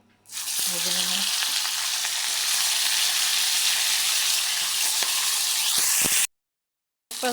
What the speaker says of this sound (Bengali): মাছটা ভাজি করে নিব তারপর সিমের বিশিটা রান্না করে নিব তেল দিয়ে দিলাম তেলটা গরম হয়ে গেছে